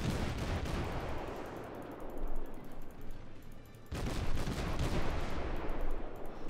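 Ship guns fire in World of Warships during a battle involving the Kolberg cruiser, a dense, continuous roll of booming salvos that briefly dips before another heavy barrage follows.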